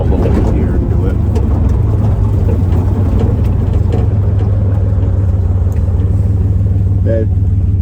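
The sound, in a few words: Buick Grand National engine under hard throttle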